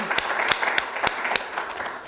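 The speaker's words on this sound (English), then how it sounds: "She gets a round of applause." Audience applause at a conference keynote, a loud round of clapping with sharp hand-claps standing out over a dense, steady patter.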